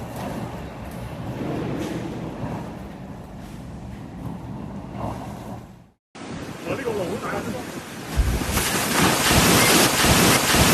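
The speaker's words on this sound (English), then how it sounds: "towering waves and gale-force winds pounded the coastline" Typhoon Ragasa's storm surf and gale-force winds batter the Hong Kong coastline, a loud, continuous roar of crashing waves and gusting wind buffeting the microphone, swelling sharply in the second half.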